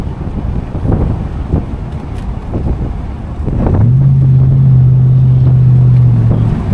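A 1967 Oldsmobile Delta 88 convertible cruises with the top down, its steady engine and road rumble mixed with wind buffeting; a low sustained drone rises and holds through the second half.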